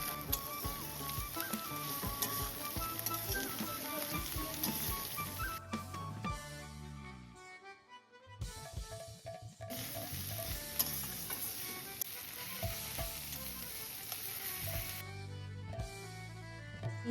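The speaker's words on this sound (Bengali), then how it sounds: "এবার কড়াই সর্ষের তেল দিয়ে তার মধ্যে গোটা গরম মশলা আর তেজপাতা ফোড়ন" Whole garam masala and bay leaves sizzling in hot mustard oil in a kadai for mutton kosa, a loud, dense, steady crackle with stirring that briefly thins before swelling back.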